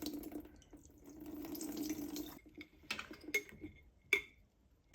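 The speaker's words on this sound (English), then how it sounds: "pour all the water out" Water drains from a jar of sprouting seeds through a sieve, a soft gushing pour for a couple of seconds that breaks into a few scattered splashes and drips.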